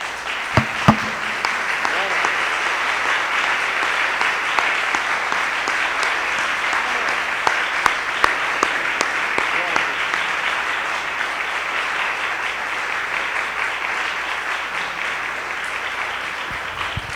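A church congregation on its feet claps steadily and loudly, a dense continuous wash of applause that holds for the whole stretch without pause.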